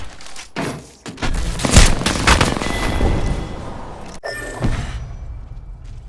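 Bursts of gunfire in Apex Legends, loud and close, with rapid shots clustered in the first half and a second volley after a brief gap, layered with booming impacts.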